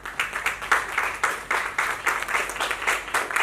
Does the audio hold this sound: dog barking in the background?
no